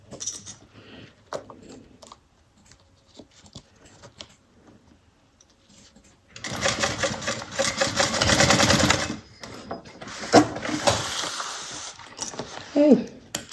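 A sewing machine stitches across a facing in two bursts, a few seconds of steady whirring, then a short pause and another shorter run. Quiet handling noises come before it.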